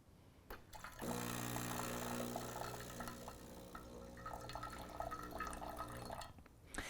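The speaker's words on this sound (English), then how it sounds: "that's how you would dispense hot water" A Gaggia Anima coffee machine dispenses hot water, first with a brief click and then a steady pump hum with liquid streaming into a cup for about five seconds before it stops.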